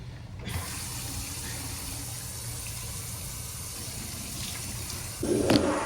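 Coffee pouring into a cup on a trip, a steady liquid stream flowing for several seconds, then a louder gush near the end, with no talking.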